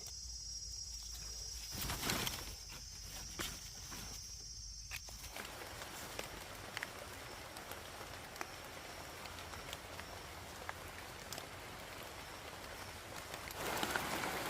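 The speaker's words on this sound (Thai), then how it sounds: "ตอนนี้ฝนก็ตกมาแล้วเจ้า ตกมาค่อยๆ" Light rain falls outdoors in the woods during mushroom foraging, a soft continuous hiss of drops pattering on leaves and ground, with a few faint rustles and footstep-like crunches, no talking.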